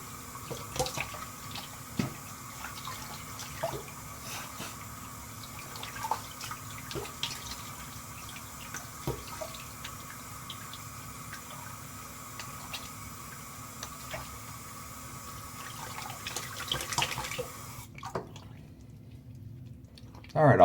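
A faucet runs steadily at moderate level for a rinse after shaving, with splashes, drips and small clatters over the flow until the water shuts off near the end.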